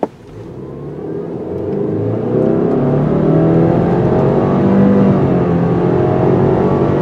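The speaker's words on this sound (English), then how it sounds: "This is a very sensitive throttle, very responsive engine, and this vehicle moves out pretty good." A 2019 Subaru Ascent with a responsive throttle accelerates hard. The engine note swells from a quiet start into a loud, steady, rising drone heard from inside the vehicle, with no talking.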